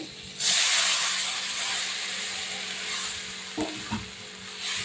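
A loud steamy hiss bursts up as water hits a hot pan of chalta (elephant apple) sour curry, then settles into a steady sizzling simmer with a couple of soft stirring knocks near the end.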